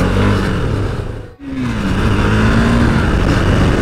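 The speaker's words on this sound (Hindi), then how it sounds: "ये देखो थ्रॉटल खोलता हूँ थोड़ा सा," KTM Duke 390 motorcycle engine revving as the throttle opens, a loud close rasp that dips briefly then climbs in pitch and holds strong.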